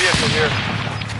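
Gunfire from a battle royale video game crackles through the whole short moment, dense and steady, with a faint voice mixed in underneath.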